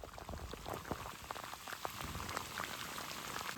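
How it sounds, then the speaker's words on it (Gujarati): Steady rain patters on a surface with dense, irregular drops, a constant soft hiss throughout and no voices; an unseasonal rain shower on farmland. "પાછો વરસાદ ચાલુ થઈ ગયો છે ને એ પાછો જો કેવો વરસાદ આવે છે"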